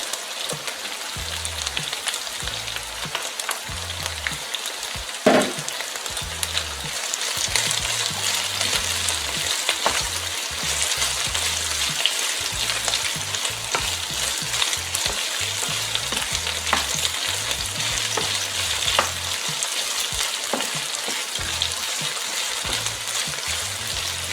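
Garlic and ají amarillo fry in a pan for Peruvian lomo saltado, giving a loud, steady sizzle and crackle with occasional stirring scrapes and clinks throughout.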